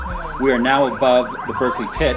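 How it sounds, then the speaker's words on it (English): A distant bird-deterrent device sounds over the Berkeley Pit in Butte, Montana, a faint repeating warbling tone behind a voice talking throughout. "That sound you hear in the distance, that's to keep birds away."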